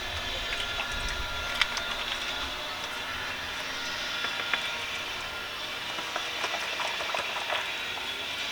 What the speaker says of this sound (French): Donc je vais rincer mon pinceau.